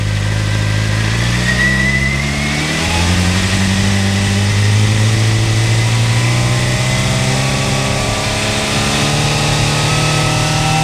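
A Suzuki GSX-R600 sportbike engine revs up from idle to a steady elevated speed near 4000 rpm, a loud, close, continuous drone that rises in pitch and then holds, with no talking.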